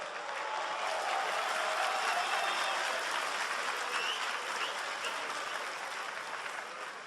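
Crowd applause at a League of Legends cosplay contest final welcoming the next contestant, a broad, sustained roar of many clapping hands heard from a distance, even in level.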